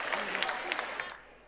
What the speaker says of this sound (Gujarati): પબ્લિક ઓછી છે પણ તો બી તાળીઓ થોડી પડી શકે છે.